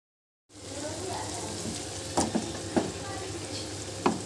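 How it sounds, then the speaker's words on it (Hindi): Chicken karahi sizzles and fries loudly in a pan over high flame, a steady crackling hiss broken by a few sharp stirring scrapes. "ये हमने तेज़ आंच पे तकरीबन 5 मिनट भुना है।"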